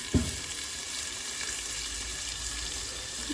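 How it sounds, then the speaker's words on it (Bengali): Kohlrabi frying in a covered pan gives a steady, soft sizzle throughout, with a brief clatter near the start and no voices. "ঢেকে ঢেকে ভেজে নিই এটাকে।"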